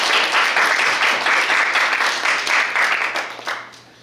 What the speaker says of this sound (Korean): 한번 박수를 보내주세요.